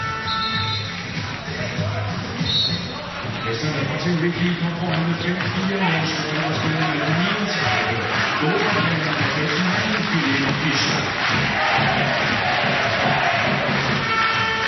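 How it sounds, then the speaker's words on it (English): Handball arena crowd in a Champions League match between Svendborg and Kiel, a dense roar of cheering and chanting throughout, with a commentator talking over it. "And the crowd getting well and truly behind Georgi Svendborg."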